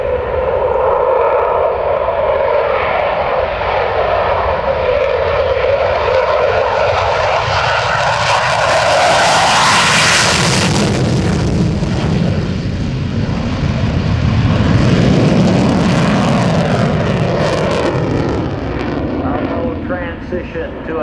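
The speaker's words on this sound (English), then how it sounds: "the F-18, the Super Hornet. Watch the liftoff." An F/A-18F Super Hornet jet lifts off at an air force base airshow, a loud sustained roar that swells to a peak and then sweeps away, with an announcer talking over it.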